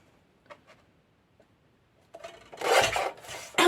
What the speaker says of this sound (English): I'm going to take my trimmer, and for these ones in here, I think I went with 1 3/4 of an inch.